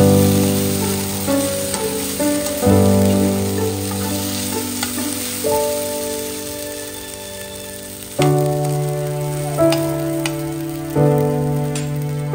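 Potatoes fry loudly with cumin and mustard seeds for aloo bhaja, a steady close sizzle broken by stirring scrapes and clatters throughout, with no talking.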